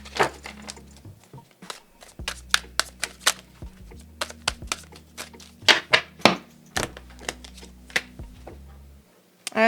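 A tarot deck being shuffled and cut by hand, heard up close as a run of sharp, uneven clicks and snaps with brief pauses and one quiet gap near the end, and no voice over it.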